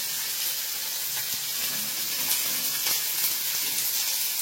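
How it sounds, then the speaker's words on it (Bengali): Bitter gourd (uchhe) frying in a pan with a steady, even sizzle and hiss that holds at a constant level throughout, close and with no talk over it. "আমি ভাজি।"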